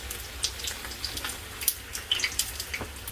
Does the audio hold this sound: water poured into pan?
yes